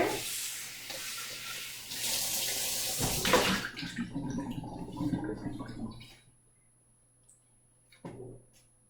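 Tap water runs into a kitchen sink as a dish is rinsed, a bright hiss and splash for several seconds before the flow cuts off, leaving near silence and a last short clatter.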